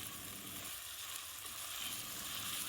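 Pavta (field bean) kernels frying in oil with sliced carrots and coriander, a steady dense sizzle with a brief quieter dip partway through, close and continuous with no talking.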